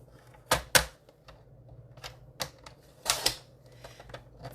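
Paper is trimmed to 1.5 inches for a Stampin' Up! card on a cutter, heard as a few sharp, close clicks and snaps scattered over a quiet background.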